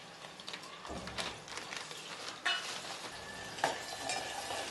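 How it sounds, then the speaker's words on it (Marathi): Onions and curry leaves sizzle and crackle quietly in hot oil in a pan, with a few stirring scrapes and clicks mixed into the steady frying hiss. "कांदा फ्राय करायला टाकला आहे"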